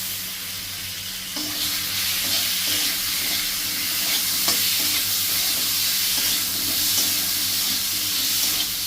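Onion paste and tomato paste frying in a pan for a koi fish curry, a steady broadband sizzle with stirring scrapes and clinks running throughout, close and fairly loud, with no talking.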